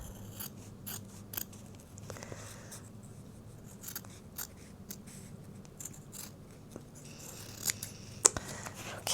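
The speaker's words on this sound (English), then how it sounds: "Scissors are better in this case." Scissors snipping through silk fabric scraps, a run of quiet, irregular crisp cuts and clicks close by over faint background hum, with no talking.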